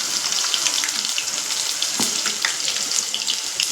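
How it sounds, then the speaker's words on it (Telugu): Ginger garlic paste deep frying in hot oil, a steady dense sizzle with faint crackles throughout, close and fairly loud, with no voices. "ఇప్పుడు ఇదే వేడి నూనెలో అల్లం వెల్లుల్లి పేస్ట్ ఇలా వేసి"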